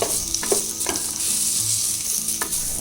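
A chopped onion sizzles in hot oil in a pan for vegetable kurma, a steady close hiss with a few scraping stirs and soft knocks of a utensil, no voices.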